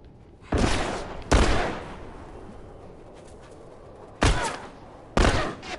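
Gunfire in The Last of Us: four loud, separate heavy bursts or blasts spaced apart, each with a booming tail, over quiet background with no talking.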